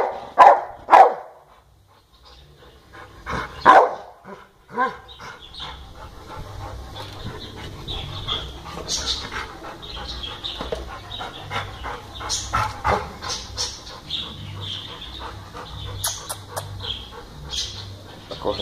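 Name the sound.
pit bull dog barking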